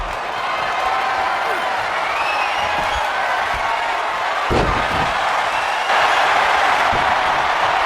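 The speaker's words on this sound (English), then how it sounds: "The crowd is fully invested in the action, sensing that the match is reaching a critical turning point" Arena crowd noise at a WWE 2K24 wrestling match: a steady wash of cheering under a commentator's voice, with a few dull thuds from the ring and a louder swell toward the end.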